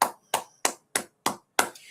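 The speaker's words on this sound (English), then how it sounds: "With that, clap it up." Six separate, sharp claps at a steady rhythm, a little under a third of a second apart. They come from an audience at a gathering of the Israelite School of Universal Practical Knowledge in Harlem, New York, and sound fairly close with no talking.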